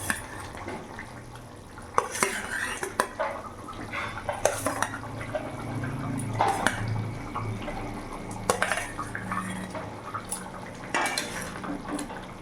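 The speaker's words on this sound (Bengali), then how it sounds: "এখন আমি মাছগুলো ছেড়ে দেবো" Pieces of pona fish go into a pot of boiling potato and papaya curry and are pushed under. Metal utensils clatter against the pot in irregular knocks over soft bubbling liquid.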